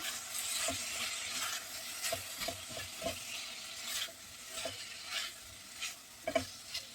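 Chopped onion and meat fry in a pan with a steady, soft sizzle, broken by repeated scraping and knocking as the mixture is stirred, with no talking.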